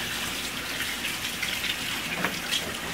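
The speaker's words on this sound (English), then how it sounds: "Let me wash my hands off." Tap water running steadily while hands are washed at a sink, a close continuous splashing stream with small irregular spatters and no talk.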